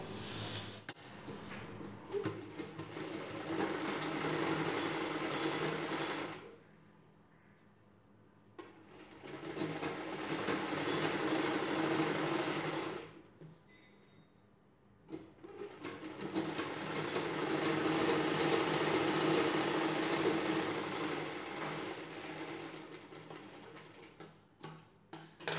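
Sewing machine stitching along folded fabric edges of a designer blouse sleeve, running in three long steady bursts separated by brief pauses, close and moderately loud with no talking.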